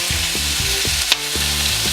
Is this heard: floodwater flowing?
no